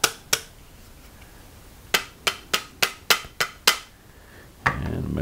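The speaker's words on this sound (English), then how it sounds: "I find oftentimes what works actually is just to take plastic mallet and just gently tap" A plastic mallet gently tapping on a part that is being worked free, giving two quick knocks, a pause, then a run of about seven crisp, evenly spaced taps, with a final tap as a low rumble begins.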